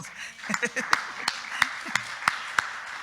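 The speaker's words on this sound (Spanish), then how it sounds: "Denle un aplauso al Señor." A small church congregation gives scattered applause, sparse individual claps spaced irregularly at moderate distance, with a voice speaking over the start.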